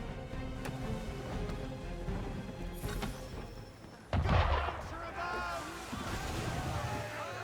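Ship cannon fire in Assassin's Creed III during a naval chase: a single heavy, booming blast lands midway, louder than the surrounding wind and water noise, with sharper cracks before it.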